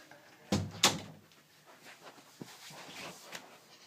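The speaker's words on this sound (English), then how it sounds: "I'm going to close the door." An indoor door closes: two close thumps in quick succession, then faint small knocks and creaks in a quiet room, with no talking.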